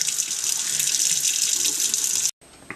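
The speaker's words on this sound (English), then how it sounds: "run this oyster sauce under hot water because it's really thick" Hot water runs steadily from a kitchen tap over a bottle of thick oyster sauce, a constant hissing stream that cuts off abruptly near the end, leaving a faint clink.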